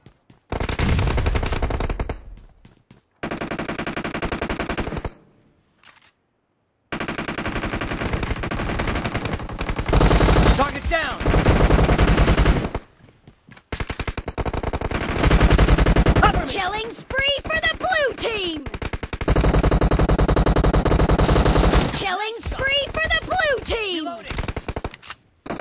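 Automatic gunfire from the PUBG mobile game comes in repeated long bursts, loud and rapid, broken by short silent gaps.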